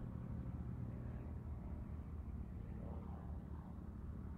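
Pitts Special propeller aerobatic plane performing tumbles at an airshow, its engine a steady, fairly distant drone with rumbling low-end noise and no voices.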